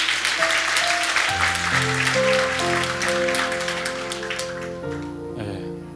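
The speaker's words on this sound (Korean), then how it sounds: "한번 박수로 맞아주시면." A church congregation applauds during a Sunday service, a brief burst of clapping that fades as sustained organ or keyboard chords carry on underneath.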